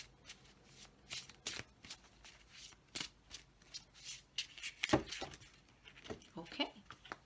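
Oracle cards are shuffled by hand in soft, quiet bursts of riffling and slapping, with irregular pauses and a couple of sharper card snaps between the flurries.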